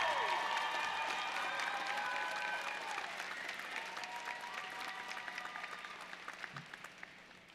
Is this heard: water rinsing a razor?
no